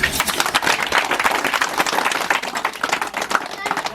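Audience at an outdoor speech in a village gathering claps in a dense, continuous burst of many hands, loud and close, with voices mixed in.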